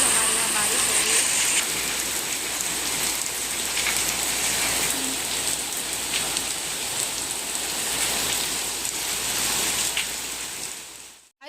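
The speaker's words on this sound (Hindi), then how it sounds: "आप लोग देख लीजिए कितनी तेज़ हमारे यहाँ बारिश हो रही है।" Heavy rain pours down outside a house, a loud, dense, unbroken roar of drops that holds steady for several seconds before cutting off abruptly at the end.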